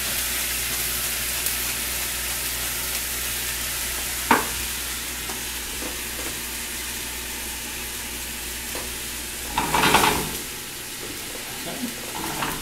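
Chicken simmering in chicken stock seasoned with salt and pepper in a pan for Chicken Mavrodaphne: a steady, soft bubbling hiss with a couple of sharper utensil knocks or stirring bursts partway through.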